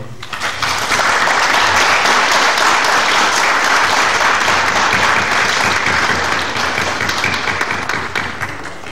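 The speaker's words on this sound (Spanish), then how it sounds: "Demos un gran aplauso, por favor." Sustained audience applause fills a lecture hall for about nine seconds, steady and dense from start to finish, with no talk over it.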